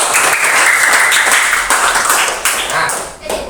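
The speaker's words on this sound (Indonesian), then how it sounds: "Anak-anak, berikan tepuk tangan dulu." A classroom of schoolchildren claps together in a bright, brisk burst that stays loud and close for several seconds, then thins out at the end.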